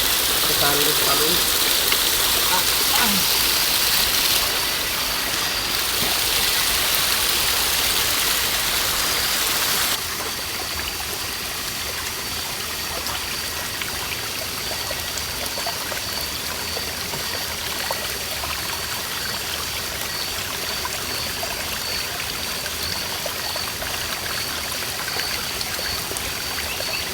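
Forest waterfall with a steady rushing, splashing roar of falling water, close and constant, shifting slightly in tone as the listener moves, with no voices.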